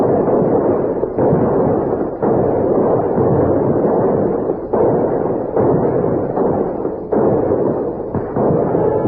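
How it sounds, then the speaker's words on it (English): Rifles and swivel guns fire a salute by a river, roaring loud and continuous as overlapping blasts roll on for several seconds with brief dips between surges. "We're going to fire a salute that'll open every door in town and bring everybody running down to the river."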